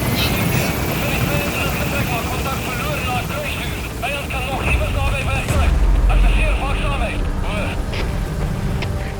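Pequod, the transport helicopter in Metal Gear Solid V: The Phantom Pain, holding over a landing zone: a steady, loud rotor and engine drone fills the scene, with game voices and effects layered over it.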